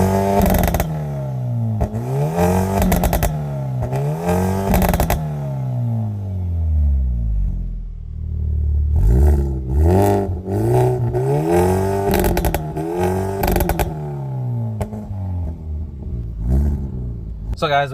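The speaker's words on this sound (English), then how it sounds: "let's actually take a listen to the exhaust and experience how this thing drives," A Stage 2+ tuned Hyundai i30N hatchback roars through repeated rising revs and upshifts from inside the cabin, with loud exhaust pulses, a brief dip, then more hard acceleration and crackles.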